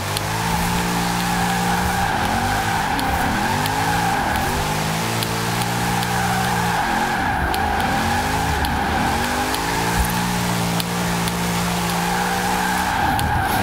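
A car drifts on snow in Forza Horizon 4 as its engine revs and sweeps up and down in repeated surges. A steady, loud skidding hiss runs underneath for the whole stretch.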